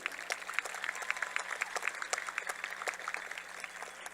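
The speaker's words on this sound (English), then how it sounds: "Let's give a round of applause to our salutatorian, Clarissa Carrillo." Applause from a high school graduation audience for the class of 2025, a steady dense patter of many hands clapping at moderate distance throughout.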